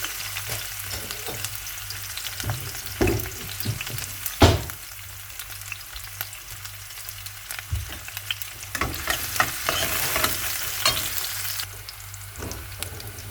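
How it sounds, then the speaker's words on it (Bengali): Red spinach with onion, garlic and green chili fries in a pan, a constant near sizzle broken by repeated knocks and scrapes of stirring. "এই তো লাল শাকটা বসিয়ে দিব, পেঁয়াজ রসুন দিয়ে দিলাম, আর এই যে কাঁচামরিচ।"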